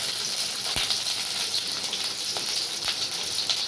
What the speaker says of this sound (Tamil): எண்ணெய் ஊற்றி வெங்காயமும் தக்காளி போட்டு